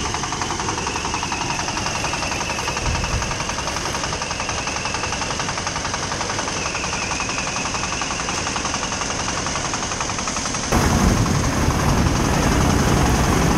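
A rented rice threshing machine works in a village in Pu Luong, Vietnam, its engine running with a loud, steady, rattling drone. The sound grows noticeably harsher and louder near the end as grain is fed in.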